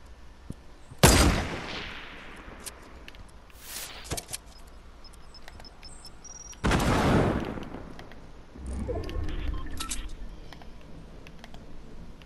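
Fortnite gunfire: a few loud sharp shots, one near the start and another around the middle, each trailing into a rumbling decay, with clicks and quieter game noise between them.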